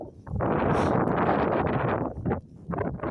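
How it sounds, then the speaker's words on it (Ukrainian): Strong wind roars and buffets the microphone in a loud, steady rush, easing briefly before gusting again. "Вітер сильний, ще й дощ не починається сильний."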